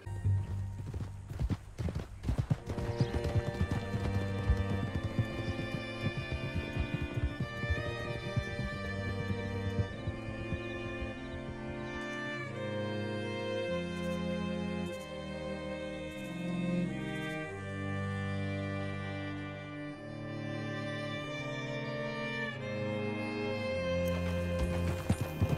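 Horse hooves gallop in a steady, continuous clip-clop during a ride in the video game Red Dead Redemption 2, mostly covered by loud orchestral music.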